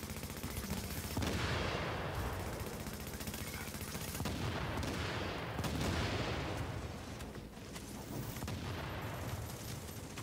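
Loud, dense gunfire from hip-fired weapons in The Division, a third-person shooter, including a shotgun-wielding enemy, with bursts running continuously and crackling throughout, faint voice beneath.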